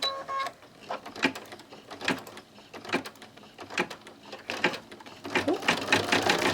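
An embroidery machine stitches paper piecing in the hoop, giving bursts of rapid mechanical stitching with short pauses and clicks between them, fairly close and moderately loud.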